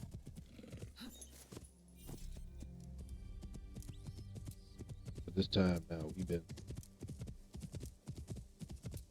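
Horse hooves clip-clopping in Assassin's Creed Shadows, a rhythmic run of hoofbeats with a whinny partway through, under someone talking over the game.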